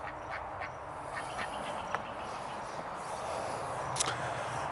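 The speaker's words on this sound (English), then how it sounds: "we've got guineas and we've got ducks all over the place" Ducks quacking on a farm with guinea fowl and alpacas, a few short distant quacks scattered over a steady outdoor hiss of background noise.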